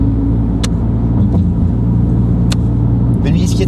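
A 1300 hp Porsche 911 Turbo S driven along a road, a loud steady low engine rumble with a few sharp brief clicks and a rustle near the end.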